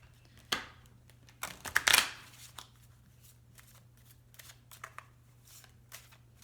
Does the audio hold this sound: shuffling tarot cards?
yes